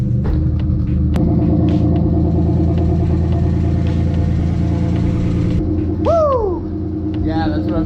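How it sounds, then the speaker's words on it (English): A newly swapped car engine, replacing a blown one and said to have rod knock, idles with a steady, close, low rumble, while a brief excited voice cuts in near the end. "She fired right up, she's idling"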